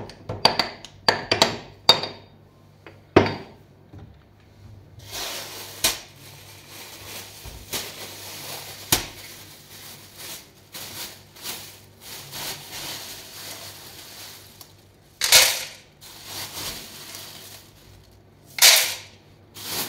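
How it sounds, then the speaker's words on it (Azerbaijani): Popcorn pops in a big pot with butter, scattered sharp cracks coming in quick clusters and then sparse single pops, close to the mic over a quiet background. "Sillərdə popcornu belə hazırlayıram."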